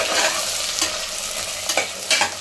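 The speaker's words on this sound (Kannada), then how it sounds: "ಇವಾಗ ಒಂದು 3 ಈರುಳ್ಳಿ ಉದ್ದಕ್ಕೆ ಹೆಚ್ಕೊಂಡಿದ್ದೀನಿ. ಇದು ಹಾಕ್ಕೊಂಡು ಕೆಂಪಗಾಗೋತಂತ ರೋಸ್ಟ್ ಮಾಡ್ತೀನಿ." Long-sliced onions roasting in coconut oil in a pan, with a loud continuous sizzle broken by a few stirring scrapes.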